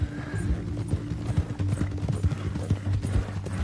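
Horse hooves clip-clop steadily in Red Dead Redemption 2 as a rider carries a bound captive toward Saint Denis, with occasional snorts and whinnies and a low rumble underneath.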